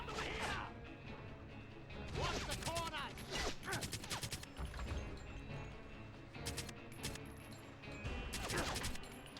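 Dense, rapid gunfire from the PS2 shooter 007: Quantum of Solace, with loud volleys of shots and crashing impacts that repeat in bursts across the whole stretch, barely letting up.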